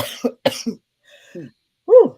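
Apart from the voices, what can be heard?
cough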